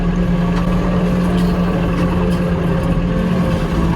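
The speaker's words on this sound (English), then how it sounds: "we got four-wheel drive here" A four-wheel drive vehicle rolls across a pasture of thawing snow on a sheep farm, its engine a steady, loud, continuous drone that holds evenly throughout with no voices.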